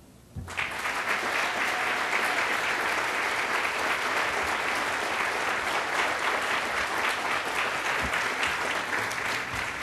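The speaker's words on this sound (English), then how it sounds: "One last round of applause for these great people." A large crowd at an outdoor dedication ceremony bursts into loud, sustained applause that starts suddenly and continues evenly without pause for nearly ten seconds.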